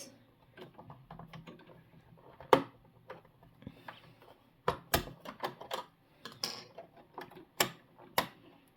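A sewing machine runs slowly while stitching dress fabric, making irregular mechanical ticks and clacks in short bursts with quiet pauses between them.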